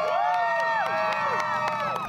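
Spectators at a mud bog event cheering and giving a standing ovation, a loud crowd roar with whoops, overlaid by bright, wavering tonal sounds.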